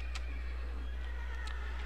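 A horse in Minecraft gives one short, close whinny, then a softer second call follows over a steady low hum.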